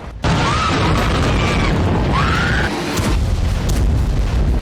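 Explosions from an Iranian bombardment of Israel boom in a dense, continuous roar with rumbling blasts and rising whistles, loud and sustained.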